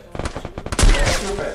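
Gunfire in a shooter video game: a short run of quick shots followed by a heavier, booming blast that rings out briefly.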